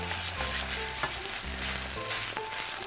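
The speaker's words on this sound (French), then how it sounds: "je le prends et je le mets sur la poêle." Meloui flatbread sizzling in a frying pan, a constant loud hiss of frying with a rhythmic low thumping pattern beneath it, close up and without speech.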